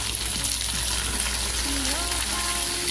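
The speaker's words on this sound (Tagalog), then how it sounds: "Ngayon, igigisa na natin ang ampalaya." Bitter gourd (ampalaya) sautés in a hot pan with a loud, continuous sizzle and crackle, joined by a few scraping stirs and brief faint voice-like tones.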